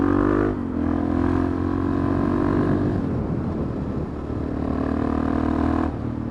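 Sportbike or supermoto motorcycle engine revs up loudly up close, holding a steady buzzing drone, dipping into a rougher idle, then climbing again toward the end.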